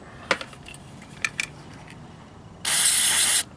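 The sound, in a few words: spraying carb cleaner on motorcycle battery contacts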